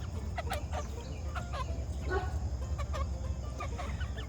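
Backyard chickens clucking and calling in short bursts throughout, with a rooster among the flock being fed apples in the morning, moderately close over steady low outdoor rumble.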